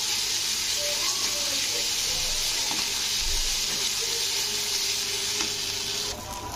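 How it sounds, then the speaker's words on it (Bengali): Ginger-garlic paste fries with onions in a hot pan for katla fish kalia, giving a steady, loud, close sizzle and hiss throughout, with occasional scraping from stirring. "তো 1 চামচ আদা রসুনের পেস্ট দিয়ে দিলাম। তো আদা রসুন পেস্টটা দিয়ে একটু নাড়তে হবে।"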